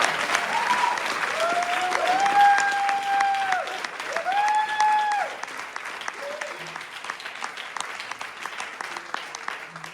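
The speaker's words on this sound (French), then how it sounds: "on peut les applaudir, s'il vous plaît" Audience at an improv show applauds the performers, a steady wash of clapping that fades toward the end, with voices audible over it.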